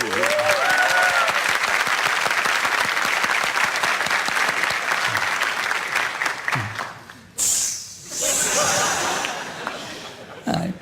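A studio audience on a talk show applauds loudly and continuously, dense clapping that fades near the end with a few chuckles and a short burst of speech.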